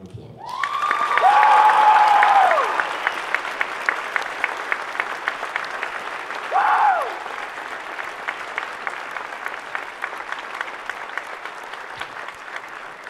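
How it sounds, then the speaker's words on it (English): A crowd in a high school gym applauds at a basketball game, honoring cancer survivors. Loud, steady clapping with a couple of rising whistles or cheers rides over it early on and then settles into scattered claps. "Let's give them a round of applause."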